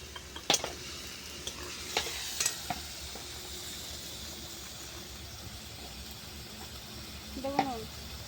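Ground spices, turmeric, coriander and homemade biryani masala, sizzle and are stirred in a pan over a clay stove for egg biryani, a soft continuous fry broken by a few sharp scraping strokes of the spoon.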